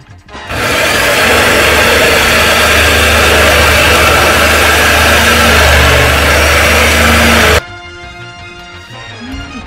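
A loud, harsh power saw roars continuously for about seven seconds while cutting during home demolition, then stops abruptly, leaving quieter ringing and background noise.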